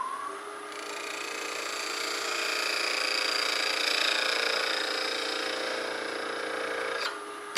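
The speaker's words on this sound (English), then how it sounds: "now I'm going to square off the end with a parting tool." Steady high whine and scraping hiss of a wood lathe as a parting tool squares off the end of an ice cream scoop handle, swelling slightly mid-cut and stopping abruptly near the end, close up with no talk.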